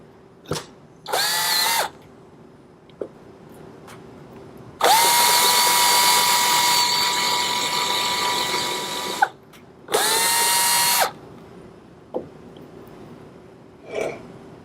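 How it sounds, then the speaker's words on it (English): A power drill bores pilot holes into wood for a DIY solitary bee house in several whirring bursts, some short and one long sustained run. Quiet pauses and small clicks fall between the bursts. "I'm just drilling a few pilot holes in the rest of the wood here"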